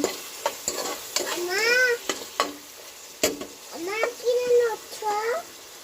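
Beef cooked for tehari being stirred in oil in a pot, with scraping and sizzling throughout and a voice talking over it.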